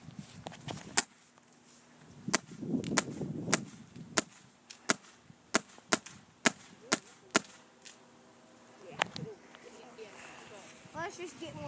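Paintball gun shots crack out as about a dozen sharp, separate pops at an irregular pace, loud and close, with people talking and shouting between the shots.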